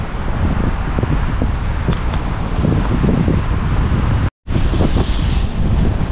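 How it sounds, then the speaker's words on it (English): Ocean waves rumble loudly along the Lima coast as the tide rises, a dense continuous roar with heavy wind buffeting the microphone and a brief dropout near the end. "the tide begins to rise and the waves rumble loudly"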